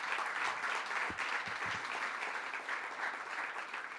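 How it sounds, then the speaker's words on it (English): Applause from a crowd at a political caucus event at the Albany mansion, a sustained, even patter of many hands heard from a moderate distance, with a few louder nearby claps early on. "One more round of applause for all our friends who are here from the Assembly."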